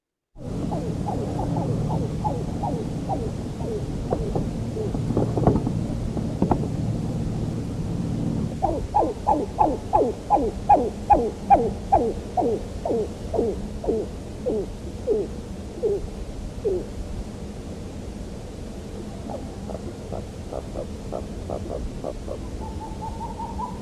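A 1963 archival field recording of a bird call, with repeated low, resonant hooting notes in series against steady hiss, slowing and fading before a few more calls near the end.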